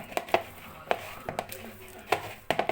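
Eggless donut dough is mixed by hand in a bowl, giving a series of irregular soft thuds and slaps at close range, with pauses between bursts.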